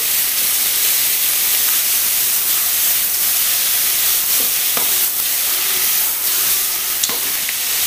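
Seafood for a seafood lasagna sears in a hot pan with a loud, dense sizzle and steamy hiss, broken by several sharp pops and crackles.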